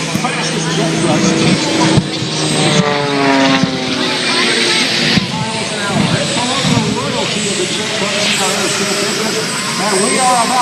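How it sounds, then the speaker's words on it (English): The Homewrecker jet truck, driven by Jerry McCart at the 2019 Greenwood Lake air show, runs up with a loud, continuous engine roar and whine close by, steady for the whole stretch with an announcer's voice over the top. "one of the most impressive jet vehicles in place"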